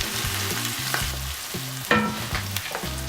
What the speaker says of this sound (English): We're just gonna stir fry this for about 1 to 2 minutes